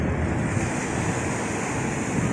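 Sea waves wash against the breakwater at Visakhapatnam port, a continuous loud roar of surf mixed with heavy wind buffeting the microphone.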